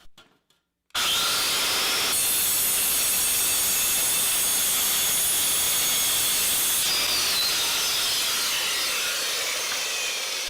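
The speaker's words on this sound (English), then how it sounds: "once you get the blades flattened out, you should be able to cut thin sheet metal. Of course, it's going to be very loud" Saw with flattened blades cutting thin sheet metal, a loud harsh continuous grinding rasp that starts abruptly after a second of near silence and holds steady to the end.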